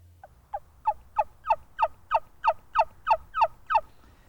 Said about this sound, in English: Yelpers are deep-rooted in turkey hunting tradition and possibly your best choice for call-shy birds